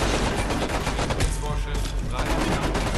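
Dense automatic gunfire in the video game Homefront: The Revolution, rapid overlapping bursts of shots and impacts, loud and close, with a brief German-speaking voice over it.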